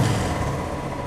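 Royal Enfield Thunderbird motorcycle engine idling close by, a steady low rumbling drone with no break, running alone without talk.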